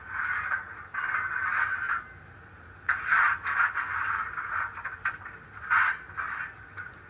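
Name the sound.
coal shovelling sound effect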